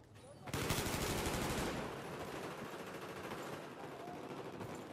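Rapid gunfire from a multiplayer video game shooter during a tournament match, a loud dense burst of automatic fire that eases into continuing shots and battle noise, with no talk over it.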